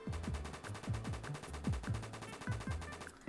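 An M4A1 assault rifle fires in the video game Oil Warfare Tycoon, a rapid automatic stream of sharp, punchy shots with a thudding low end, repeating evenly for about three seconds, close and alone.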